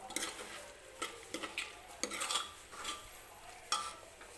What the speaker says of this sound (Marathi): आणि मीडियम गॅसवरतीच 1-2-3 मिनिटासाठी हा हरभरा जो आहे तो मसाल्यासोबत परतून घेऊया.